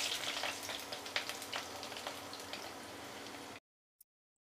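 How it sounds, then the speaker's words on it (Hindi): Roughly chopped onions fry in hot oil in a kadai, a crackling, spitting sizzle with small pops that runs steadily and then cuts off abruptly, leaving silence and one faint click. "इसे 1 से 2 मिनट फ्राई कर लेंगे"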